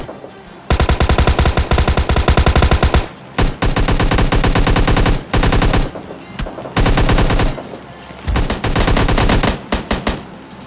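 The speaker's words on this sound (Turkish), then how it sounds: "Evet burada bir çatışma var." Rapid automatic gunfire from a PUBG Mobile Lite firefight comes in loud sustained bursts with brief gaps between them, dense and close, with no talk over it.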